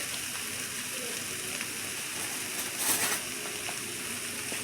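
Minced garlic sizzles in a hot pan for vegan chicken fried rice, a steady close hiss and crackle that swells briefly midway, with no talk over it.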